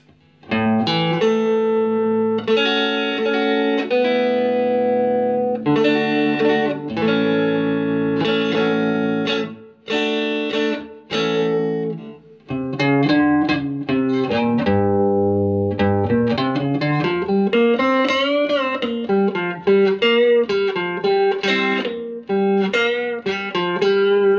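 Stratocaster electric guitar played clean through channel 1 of a Fender Super Champ XD amp, strummed chords and ringing single-note lines with short pauses, loud and close, no voice.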